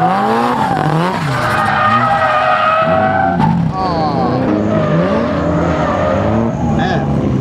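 Race car spinning out on a track, with loud swooping tire squeals and skidding over revving engines, while people talk nearby.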